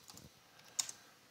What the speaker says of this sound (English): I'm going to hit tab on the keyboard just to move across.